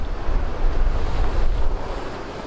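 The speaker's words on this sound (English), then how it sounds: "It's been kind of sprinkling today and it's windy, really windy." Strong wind gusts buffet the microphone on a cold, rainy day in Kodiak, giving a loud low rumble that swells and eases without letup, with no voices.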